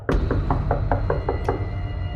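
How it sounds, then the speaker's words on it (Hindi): Loud, rapid knocking on a door, about nine hard, evenly spaced blows in quick succession, close and sharp against a low background rumble. "अचानक बाहर से दरवाजे पर जोर जोर से दस्तक होने लगी।"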